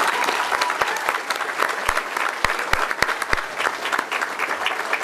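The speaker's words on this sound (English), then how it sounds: "Please, a round of applause." An audience at an open source awards ceremony breaks into full, steady applause. A few sharp individual claps stand out above the crowd, and a faint voice can be heard.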